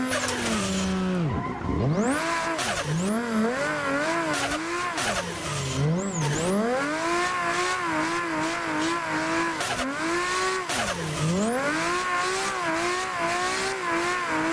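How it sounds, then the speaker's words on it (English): A turbocharged drift car engine in the video game Assetto Corsa revs and whines loudly with a turbo whistle, pitch rising and falling through gear changes, with tire squeal mixed in throughout. "It's got a crazy turbo sound."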